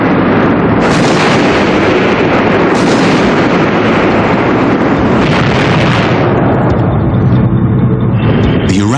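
Tank gunfire and explosions from M1 Abrams tanks destroying Iraqi T-72s boom loudly in a dense, continuous roar, with heavy repeated blasts layered over rumbling detonations throughout.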